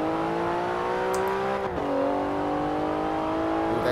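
Twin-turbo three-litre flat-six of a 2019 Porsche Carrera S in Forza Horizon 4 drones steadily and loudly, its pitch dipping briefly at a gear change before climbing again under continuous road noise.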